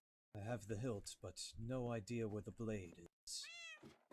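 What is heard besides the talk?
cat meowing in a video game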